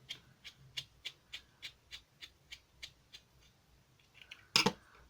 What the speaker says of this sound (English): Put our little black rubber on, little screw, screw it in.